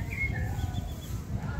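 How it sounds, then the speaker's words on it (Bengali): Birds call faintly from a banyan tree beside the Gorai River, a branch of the Padma in Kushtia, in the late afternoon. Soft, thin calls drift over a steady low rumble of outdoor background noise. "নানান রকমের পাখি বট গাছে এসে ডাকাডাকি করে।"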